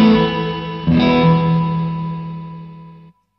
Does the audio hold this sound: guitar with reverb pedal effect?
yes